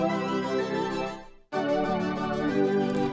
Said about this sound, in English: one of my basically cheat codes to getting a fuller 80s sounding preset is this chorus